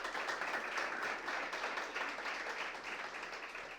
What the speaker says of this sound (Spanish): Un aplauso, por favor, a nuestra...